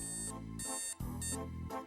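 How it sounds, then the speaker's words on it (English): An alarm clock rings in repeated bursts of bright electronic tones, a few pulses with short gaps between them, clear and close with no voices. "That would be the sound of your alarm going off."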